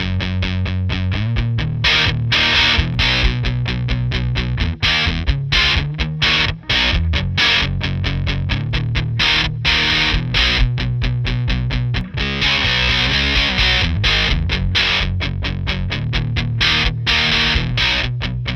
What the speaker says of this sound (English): I'm gonna hit you with some fuzz.